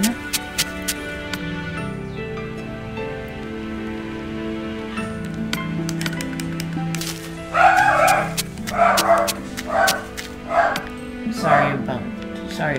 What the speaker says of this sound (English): Sorry if you guys can hear my dog barking in the background.